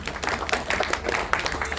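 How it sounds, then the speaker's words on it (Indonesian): Guests clapping at a birthday celebration, a short burst of fairly close, dense applause with some overlapping crowd noise. "Tepuk tangan buat Dokter Rita"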